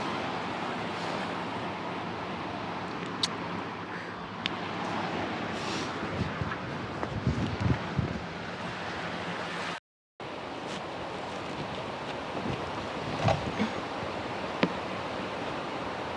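Waves wash in and wind blows at Nickel Beach as a soft, constant surf rush with faint swells, broken by one brief silent gap.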